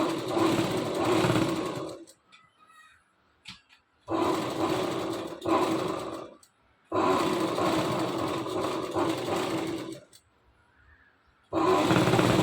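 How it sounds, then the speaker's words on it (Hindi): A sewing machine stitches the neckline of a kurti, running in close, loud whirring bursts of a couple of seconds each, separated by short near-silent pauses. "इस तरीके से रख के इस सिलाई शुरू करेंगे।"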